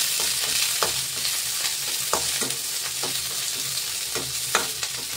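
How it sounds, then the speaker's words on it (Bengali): Onion and green chilli fry together in a pan, a steady loud sizzle broken by repeated rhythmic scrapes of stirring, with no voices. "এবার পেঁয়াজ আর কাঁচা লঙ্কা একসাথে দিয়ে দেবো, দিয়ে এটাও ভেজে নেবো।"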